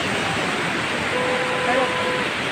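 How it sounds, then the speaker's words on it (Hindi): Sea waves roll onto the beach at Puri, Odisha, a dense steady wash of surf filling the whole stretch, loud and continuous with no clear break between waves. "ये समुद्र की लहरें आ रही हैं, अद्भुत।"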